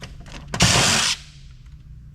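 A power tool spins out keeper screws from a piece of heavy e-scrap: a short, loud whirring burst of about half a second between faint clicks and handling noise, close up and without speech.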